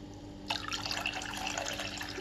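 Water is poured over rice to wash it for curry leaf rice, a soft, close splashing and trickle that starts abruptly after a quiet moment and runs on steadily.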